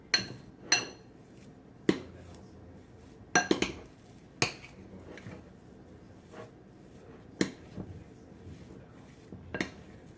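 A utensil working low carb, gluten free cheddar biscuit batter by hand in a bowl, giving sharp intermittent clinks and knocks against the bowl at an irregular pace, fairly close, with quiet gaps between strikes.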